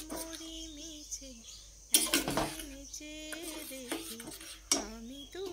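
A spoon stirs milk powder into a sweet mixture in a pan, with soft scraping and clinks against the metal and a louder clatter partway through, under a voice talking throughout.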